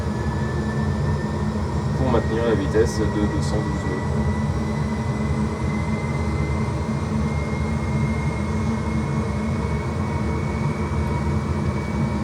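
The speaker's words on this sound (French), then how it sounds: "Les réacteurs, on entend qu'ils remettent de la puissance." Jet engines spool up in a flight simulator during a circuit at Princess Juliana airport: a steady, full roar with a slowly rising whine, running throughout beneath someone speaking French.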